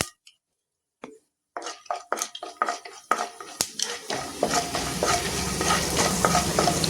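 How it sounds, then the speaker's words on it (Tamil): Mustard seeds pop and crackle irregularly in hot oil, starting sparse and building into a dense, steady sizzle with scattered spits. "கடுகு நல்லா பொரிஞ்சிருச்சு"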